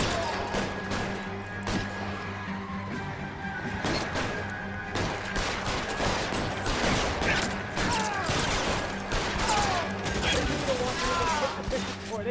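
Dense gunfire in the video game L.A. Noire rattles continuously through a busy shootout, with mechanical clacks and crashes mixed in and a voice talking over the din.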